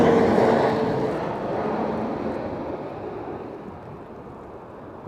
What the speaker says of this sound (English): It could be that jet.